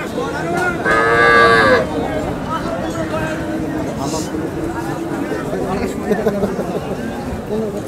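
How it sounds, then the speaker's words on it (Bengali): Cattle low loudly at a cattle market (haat) in Dinajpur where local cows and calves are sold, one strong harmonic moo near the start, then crowd chatter and market babble continuing underneath. "এই যে এখানে একটা সার বাছুর দেখছি"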